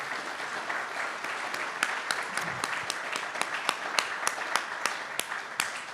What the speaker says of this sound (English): Let's just give a little applause there